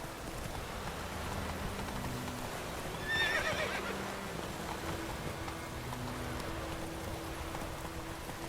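In The Witcher 3: Wild Hunt, a horse gives a brief whinny partway through over steady galloping hoofbeats, with a rain-like hiss and soft game ambience running underneath.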